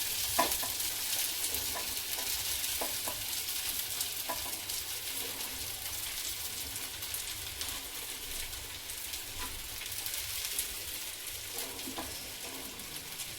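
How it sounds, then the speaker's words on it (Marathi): Soaked sago pearls stirred into a pan with green chillies for sabudana khichdi, a soft, steady sizzle with scraping stirring strokes and occasional small ticks, close but fairly quiet, with no voices. "मिरची छान भाजल्यानंतर त्यामध्ये आपण हा भिजवलेला साबुदाणा टाकून घ्यायचा आहे."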